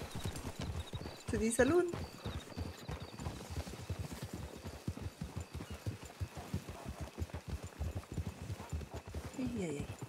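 A horse gallops in Red Dead Redemption 2 with rapid, even clip-clop hoofbeats throughout and a brief whinny. Voices speak over the hooves at times.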